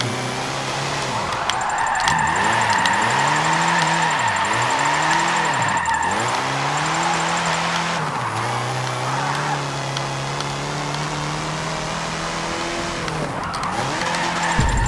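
A 1968 Meyers Manx with a rear-wheel-drive drift tune slides through corners in Forza 7, its engine revving and dipping in wavering pitch under continuous loud tire squeal throughout.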